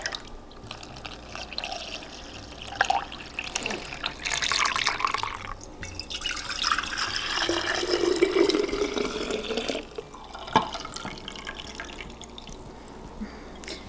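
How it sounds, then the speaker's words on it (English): Homemade strained yogurt (lebni) is poured into jars in a home kitchen, giving a soft, steady liquid pour and gentle drips that swell mid-way and then taper, with a few light clinks and no talking. "And simply pour into your jars."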